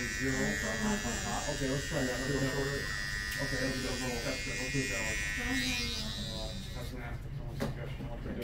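Wahl Magic Clip open-blade hair clippers cutting a man's hair during a barbershop 90s-style taper cut; a steady, close electric buzz runs throughout while someone talks over it.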